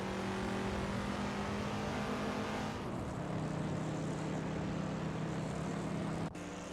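Racing cars in a video game drone past with a continuous loud engine roar and a steady mechanical hum, the pitch shifting partway through as the engines change pace, with no pauses and no voices.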